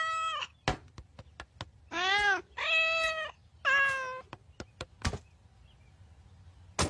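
A cartoon cat from The Simpsons meowing three times, loud and drawn out, interspersed with sharp knocking clicks and thumps.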